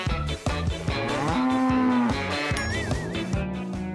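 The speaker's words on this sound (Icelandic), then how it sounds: "Hvað? Alvöru kýr?" A cow moos repeatedly in a children's cartoon, long deep lowing calls over a busy backdrop of music and sound effects, including a wavering whistle-like tone, with no talking.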